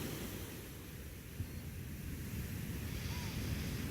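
Sea waves wash onto a beach as a faint, steady surf rumble with wind noise, distant and continuous, with no talk.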